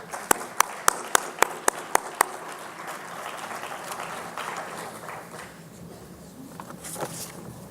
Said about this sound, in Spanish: recibamos pues con un fuerte aplauso a la doctora Celis Suárez